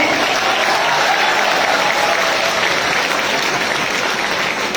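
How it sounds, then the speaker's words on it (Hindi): Loud, sustained audience applause fills a university hall during an opening ceremony, a thick continuous roar of many hands clapping with no pauses. "हमारे दर्शकों की शोभा उनकी तालियों से होती है"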